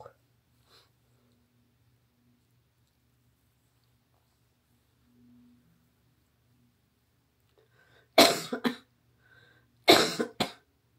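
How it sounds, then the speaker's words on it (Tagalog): After a long quiet stretch, two separate bursts of coughing sound close to the microphone, each a quick cluster of harsh coughs about two seconds apart. "May ubo pa rin tayo, guys."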